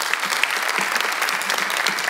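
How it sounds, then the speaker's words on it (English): A conference audience gives a round of applause at the closing of a three-day build event, a steady dense patter of many hands clapping with no speech. "maybe he definitely deserves a round of applause"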